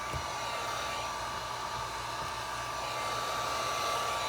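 A heat gun or hair dryer blows a steady, even hiss while heating vinyl tint film on a Dodge Challenger rear reflector, close and constant throughout with no talking.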